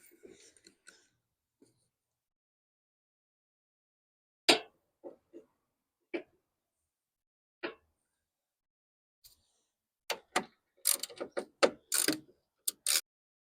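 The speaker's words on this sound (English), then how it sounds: "We're using a 10 millimeter socket for this." Ratchet with a 10 mm socket loosening bolts on a Chevy Express 2500 during a water pump replacement, heard as scattered short clicking bursts that grow busier and closer toward the end, with no talk.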